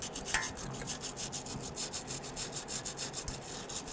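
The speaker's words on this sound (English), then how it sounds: "we grabbed a very gentle bristle brush here, and we want to clean the ports here" A gentle bristle brush scrubs the brake caliper ports on a 1999-2004 Jeep Grand Cherokee during parking brake hardware work, making a steady run of close, rhythmic scratchy strokes with no talking.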